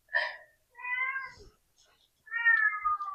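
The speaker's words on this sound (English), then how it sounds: "My cat is crying because she wants to come inside the room." A house cat meows repeatedly indoors, crying to be let into a room: three drawn-out, harmonic calls, the last one longest, fairly close and clear with short pauses between them.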